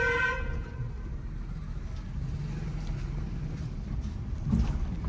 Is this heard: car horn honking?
yes